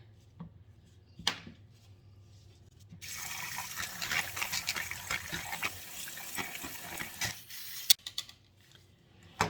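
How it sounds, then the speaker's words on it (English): A small mini whisk stirs vegan cold process soap batter in a container, making a continuous wet swishing and sloshing that starts abruptly, runs steadily for several seconds with faint clinks, then stops. "I'm gonna get out my little mini whisk over here and see if we can't get it all the right consistency"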